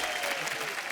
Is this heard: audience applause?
yes